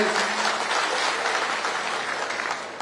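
A large crowd claps steadily and loudly at a political rally in Ramanathapuram, Tamil Nadu, the dense applause sustained throughout with no clear speech over it.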